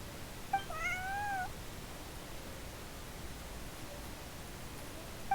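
Bonnie the cat in the video game Genshin Impact gives a couple of short, clear meows near the start, heard alone over a constant soft background hiss.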